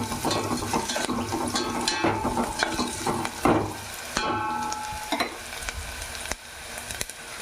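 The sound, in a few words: vegetable pieces frying in pan on stove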